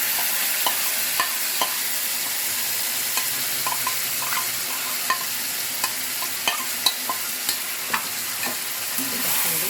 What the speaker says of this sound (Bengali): এবার আমরা এটার মধ্যে এই 10 মিনিট ম্যারিনেট করা মাশরুমটা ঢেলে দেব।